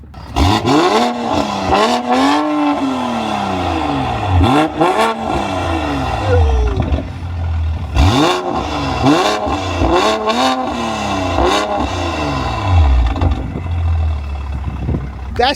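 A BMW 540i with a loud modified exhaust revs hard in repeated rising and falling bursts, giving a deep, raspy roar with crackles, heard up close, with voices talking briefly over it.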